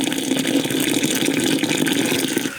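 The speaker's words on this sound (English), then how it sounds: "I'm just going to be adding the boiling water to this soil." Boiling water is poured from a kettle onto potting soil, making a steady, close splashing gush that trails off at the end.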